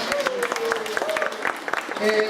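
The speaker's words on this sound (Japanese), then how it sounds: "南米の方、ちょっと拍手どのぐらいですかね。" An audience at a town exchange-association party claps in a scattered, moderate patter while someone speaks over it.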